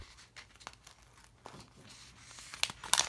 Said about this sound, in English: Take off that release paper.